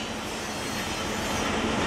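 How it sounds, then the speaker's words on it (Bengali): Darjeeling toy train coaches pull out of Kurseong station with a steady, dense rumble of rolling wheels and rail noise, close and unbroken for the whole moment, without voices. "এই ছেড়ে দিল এই কোচটাকে"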